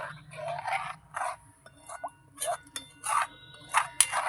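A spoon stirs Amul milk to mix it, giving light clinks and scrapes against the container in short, irregular bursts, close and fairly quiet.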